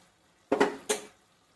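Fish curry with turmeric and chili powder being stirred in a pot: two short scraping clanks of a spoon against the pot, close and fairly quiet, with nothing else around them.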